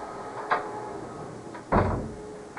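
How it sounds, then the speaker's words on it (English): A door is pushed shut in an office while cleaners vacuum nearby, giving a light knock followed about a second later by a louder wooden thud and latch, close by with a faint hum in the background. "Is that rude to close the door on the cleaners?"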